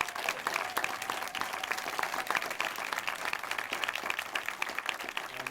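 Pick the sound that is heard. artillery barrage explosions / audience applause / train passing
audience applause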